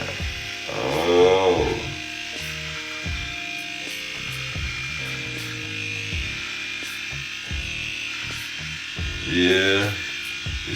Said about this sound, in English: I'm gonna choose this precision clipper in. Let's go on through that hairline now.